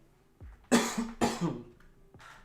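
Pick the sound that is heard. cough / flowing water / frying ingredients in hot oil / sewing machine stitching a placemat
cough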